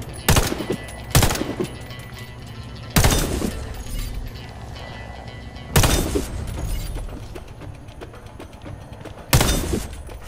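Five sharp, heavy scoped rifle shots fired at targets in the shooter game Warface, spaced irregularly over a low ambient hum, each crack followed by a brief echoing tail.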